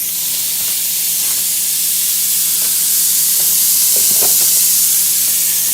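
Ground beef, 80% lean, browning in a pan makes a loud, constant sizzling hiss up close, with a few faint scrapes and pops rising near the end.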